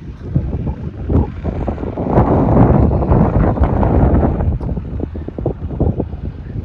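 Gusty wind at Jebel Hafeet near Al Ain buffeting the microphone, a loud rumbling roar that swells and eases.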